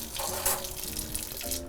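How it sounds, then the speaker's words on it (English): Hot water runs steadily from a kitchen tap while dishes and greasy pans are hand washed, a continuous close splashing gush with no talk. "Hot water just melts the grease away."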